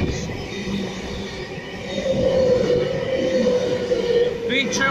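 A Sydney train, the V2 set, trails past through a station with a loud, steady rumble of rolling wheels and carriages that swells midway, a brief high squeal near the end, and voices faintly underneath.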